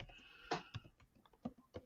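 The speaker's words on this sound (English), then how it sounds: "I'm typing that in down here" Keys clatter on a computer keyboard in short, uneven bursts of close, quiet clicks and taps, with no talking.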